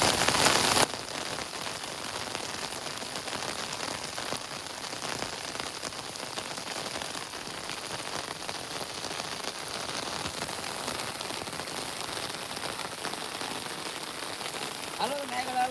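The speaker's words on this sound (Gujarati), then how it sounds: "વરસાદ તો એ ચાલુ છે ને ચાલુ વરસાદે આવ્યા." Heavy monsoon rain pours over farm fields, a dense, unbroken hiss of drops that swells briefly at the start and then holds steady, with no voices.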